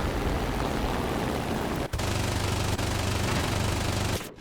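Rear gunner's machine gun on an Ar-196 A-5 floatplane in War Thunder, a dense, continuous rattling roar of rapid fire blended with the plane's engine drone, loud and steady with two brief breaks, no talk.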